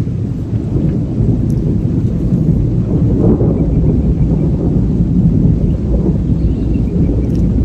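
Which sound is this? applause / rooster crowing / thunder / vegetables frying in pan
thunder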